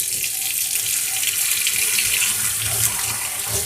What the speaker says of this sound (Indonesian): Cuci bersih sebelum dikukus ya, biar nggak ada obatnya.